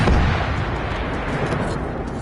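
A rocket launcher fires in a video game, a loud, dense roaring blast that fills the whole moment with broad rumbling noise, close and with no talk.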